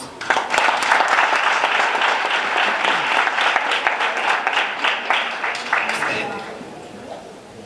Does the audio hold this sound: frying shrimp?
no